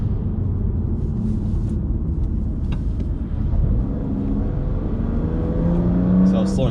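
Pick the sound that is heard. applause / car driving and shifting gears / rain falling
car driving and shifting gears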